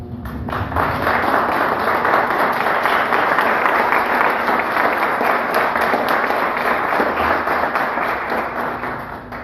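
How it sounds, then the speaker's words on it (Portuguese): A church congregation applauds during a deliverance service, a loud, continuous roar of many hands clapping with a low hum underneath. "Aplauda o Senhor."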